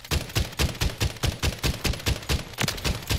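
JAK Protean rifle fired in single shot mode in a video game, a rapid run of about fifteen sharp, punchy shots in quick even rhythm, loud and close with no pauses.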